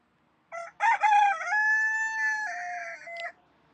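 A single rooster crows loudly and up close, one long drawn-out cock-a-doodle-doo against a quiet background.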